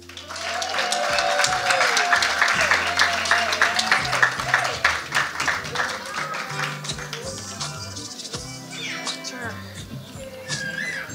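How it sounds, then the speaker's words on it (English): An audience applauds the winner of the best adult short story award at the 2023 Jamaica Creative Writing Competition and Exhibition, with dense, steady clapping throughout and a voice speaking over it. "make some noise for the winner of the best adult short story"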